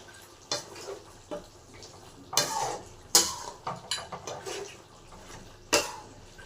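Chicken curry sprinkled with chopped coriander is stirred in a pan, a spoon scraping and clinking against the metal in a few sharp, irregular knocks with softer wet shuffling between them, close and alone.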